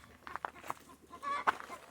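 Chickens cluck in short, quiet bursts close by outdoors, a few choppy calls spread over a couple of seconds with soft farmyard background.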